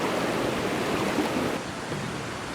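Water of the Bagsit River, a mountain river said to connect to Cotto Mines, flowing steadily with a dense, close rushing wash that carries on without break and no voices.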